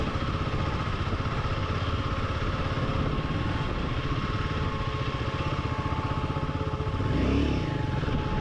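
A motorcycle ridden solo on the hilly road from Siliguri to Darjeeling gives a steady, rumbling mid-pitched engine drone throughout, swelling briefly near the end, with no talking.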